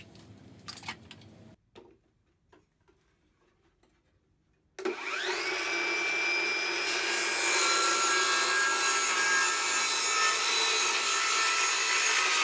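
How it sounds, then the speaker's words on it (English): Homemade track saw cutting a clamped board to length: after a few quiet clicks and handling sounds, the saw spins up sharply and cuts with a loud, steady whining roar to the end. "We'll go ahead and clamp that down and then cut the length off."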